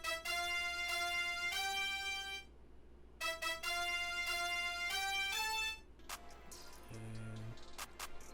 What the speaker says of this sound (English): It's a FS high brass, so it's like more of a, I don't know, lead type of brass.